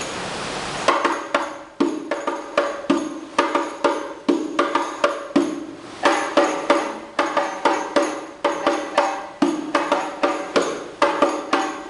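A hadroh frame drum moves from the pause pattern back into the rising pattern, with rapid, ringing hand strikes in an even, driving rhythm for about twelve seconds after a short noisy lead-in. It is close and loud, with no talking.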